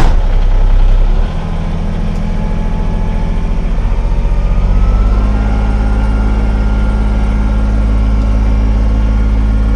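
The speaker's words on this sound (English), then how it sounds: "So I'm gonna start the tractor" A tractor engine turns over and settles into a loud, steady low idle that rumbles on close by without a break, used around a property with flail mower and brush hog work.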